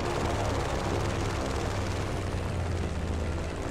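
Airplane in Just Cause 3 flying low over a desert and coming in to land, a steady loud engine drone with a low hum that holds unbroken throughout.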